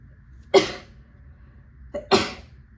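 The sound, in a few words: sneeze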